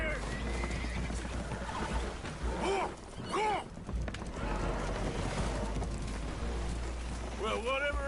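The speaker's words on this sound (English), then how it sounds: "Horses are spooked" Spooked horses whinny in a Red Dead Redemption 2 scene aboard a damaged boat taking on water, with rising neighs standing out over a constant rain-and-water rumble and restless hoof noise, while voices talk in between.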